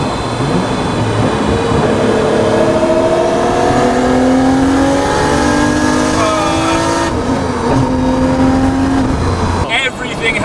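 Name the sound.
Nissan Skyline R32 GTST stroker engine driving and revving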